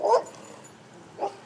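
A dog gives two short barks, moderately distant, separated by a pause, with quiet background in between.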